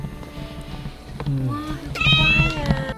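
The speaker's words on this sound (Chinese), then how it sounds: "呢只猫仔嚟嘅，细猫仔嚟嘅。" A small kitten on a cat island meows several times, short rising cries growing louder toward the end, with a person speaking softly under and between the calls.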